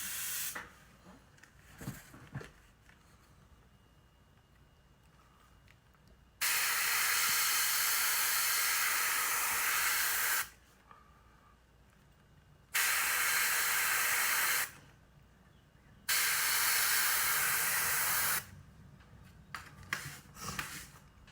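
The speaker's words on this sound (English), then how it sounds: "I'm going to spray down the belly of the bait" An airbrush or spray can coats the belly of a pumpkin-seed fishing lure through a stencil in a few long, loud hissing bursts of two to four seconds, with quiet handling noises between them.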